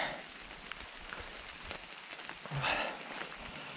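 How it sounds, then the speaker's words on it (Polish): Rain falling steadily on a wooded path near the Cornish village of Lerryn, a faint continuous patter with scattered drops, no talking. "deszcz pada, a ja nie chcę, żebyście widzieli na ekranie krople wody"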